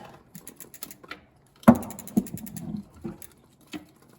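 A bicycle chain is worked back onto a sprocket, giving scattered metallic clicks and ratcheting rattles, close and quiet, with a sharper clatter partway through and no talking.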